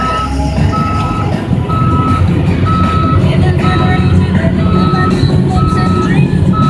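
A bulldozer's reversing alarm beeps in a steady repeating rhythm over a loud rumbling diesel engine, close by and constant.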